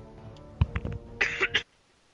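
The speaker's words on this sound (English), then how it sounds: "I've been coughing for like a week now." A person with a week-long cold coughs: a short low throat sound, then a few rough bursts building to two or three harsh, loud coughs close to the mic, ending abruptly in near silence.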